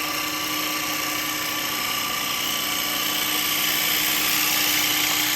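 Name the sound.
wood lathe turning an ash bowl with a gouge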